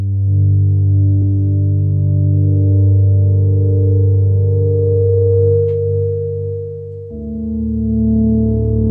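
Sustained synth pad from a Spitfire Audio sample library, layered tones holding steady and loud, then shifting to a new chord near the end, with no voices.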